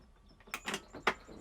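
Integrated recycling bin drawer in a Ram Promaster camper van kitchen sliding and thumping, a few short quiet rolling and clunking bursts close by, no talking.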